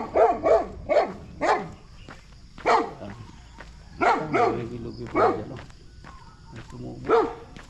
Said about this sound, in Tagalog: May malaking aso guys, oh,